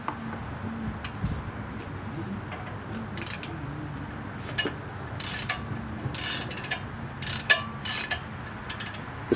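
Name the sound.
ratchet turning a brake caliper bolt on Chrysler 300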